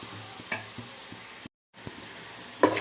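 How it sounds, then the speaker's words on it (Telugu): Fish curry paste cooking in a pan is stirred, with a soft sizzle and a few scraping strokes, close and quiet, briefly cutting to silence midway. "ఇది బాగా కలుపుకోవాలి. ఇలాగా"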